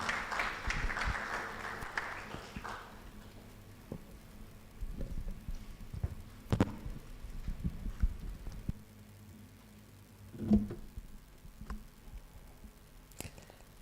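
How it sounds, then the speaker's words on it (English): Conference attendees at an actuarial meeting applaud briefly at the start, a short burst of clapping that dies away within a few seconds and leaves a quiet room with occasional soft thumps and shuffles. "Please, a round of applause"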